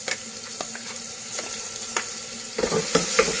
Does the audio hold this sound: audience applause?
no